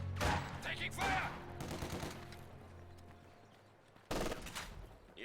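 Gunfire and battle noise in a squad-based war video game, a dense rattle of shots and explosions that fades into rumble, then a fresh loud burst near the end.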